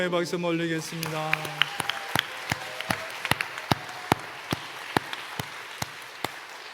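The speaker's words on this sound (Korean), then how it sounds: "우리 하나님께 영광의 박수 올리겠습니다" Singing ends and gives way to scattered, sparse claps from a church congregation, individual sharp claps spaced out and echoing in the room rather than a full ovation.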